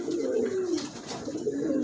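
A slim-bodied pigeon coos softly in a continuous, murmuring low-pitched call with slight swells, heard alone up close with no speech.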